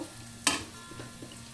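A spoon scrapes once through ivy gourd fry in a hot pan, a sharp close clatter over a steady low sizzle, followed by a few softer stirring taps.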